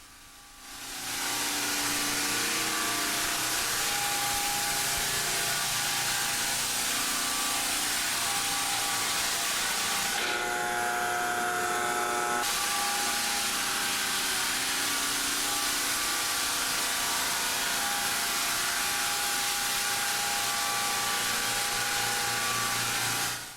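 A loud, steady motorized drone of a rented floor sanding machine with a rotary sanding belt grinding hardwood, running continuously with a brief change in tone midway.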